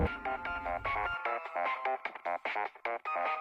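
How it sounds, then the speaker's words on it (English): A cell phone rings in a pocket with a melodic electronic ringtone, a close, loud run of rapid repeated tones that keeps going steadily with short gaps and no voices. "Void questioned to only himself before jumping to the sound of his phone ringing."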